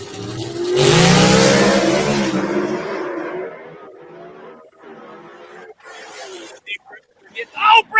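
A drag race car with a 477 cubic inch G motor roars at the start of a run, loud and close, then fades as it pulls away while an announcer talks over the strip.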